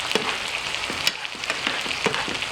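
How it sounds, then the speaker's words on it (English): Asparagus and other vegetables sauté in butter in a pan, giving a steady, close sizzle dotted with small crackles and pops, with no voices over it. "And then you want to mix up your vegetables as they saute."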